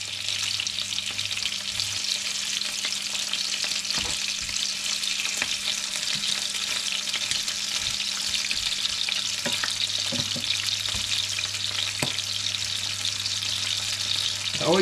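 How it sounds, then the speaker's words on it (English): Squid calamari frying in a pan on a Tasmanian catch-and-cook trip gives a steady, dense sizzle and crackle, close and constant, with occasional stirring clicks and no talking. "all you're doing is really cooking it until the squid goes white"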